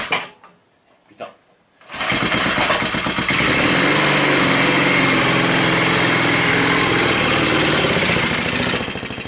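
A small engine with the choke set catches after a couple of brief pulls and then settles into a loud, steady, buzzing idle close by.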